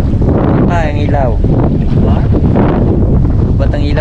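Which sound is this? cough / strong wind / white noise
strong wind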